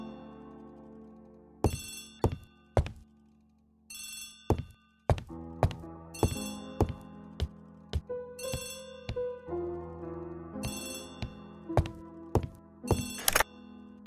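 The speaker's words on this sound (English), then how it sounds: "Poirot, the telephone." An old-fashioned telephone bell rings in repeated bursts in a quiet room, sharp metallic trills separated by pauses, with a low musical score underneath.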